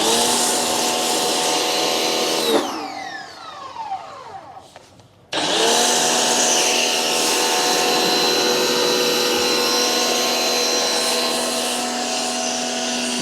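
A Parkside pressure washer from Lidl sprays foam and water in a loud, steady hiss and motor hum, cutting out for a few seconds midway, then resuming strongly and running continuously.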